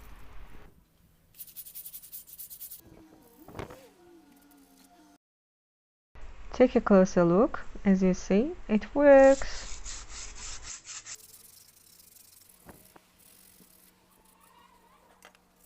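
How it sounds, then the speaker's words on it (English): Wet sanding of a chair using methylated spirits mixed with water, heard as soft, intermittent rubbing and scraping strokes with quiet gaps between them. A person speaks briefly in the middle. "Now mixing methylated spirits with water for wet sanding."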